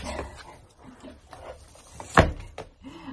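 A dog playing and mouthing its owner during a walk in the mountains, with scattered snuffles, soft grunts, rustling and one sharp louder bump, close by with no talk.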